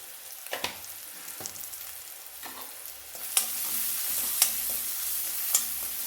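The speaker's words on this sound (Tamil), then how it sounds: "இது கொஞ்சம் வதங்கட்டும் வெங்காயம் வதங்கிட்டே இருக்கும்போது" Onions with garam masala and turmeric sizzle quietly in a hot pan, with soft scraping clicks of a spoon stirring now and then.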